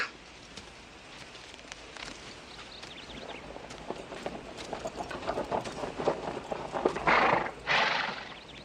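Horse hooves clip-clop and a horse whinnies outdoors in a Western setting, the steps growing louder toward the end with a couple of loud bursts; no talk is heard.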